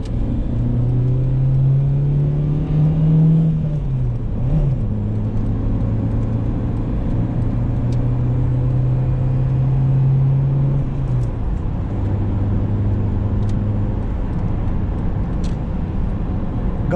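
A Renault Laguna 2.0 engine hums steadily from inside the moving car, its pitch rising under acceleration, dipping briefly at a gear change, then climbing again, with a constant low road rumble and no talking.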